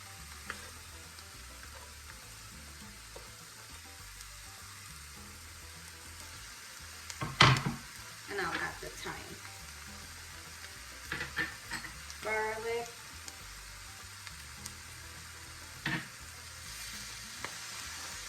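Shallots, peppers and saltfish fry in oil with a soft steady sizzle, broken by a few louder scrapes and clatters of stirring in the pan; no one speaks.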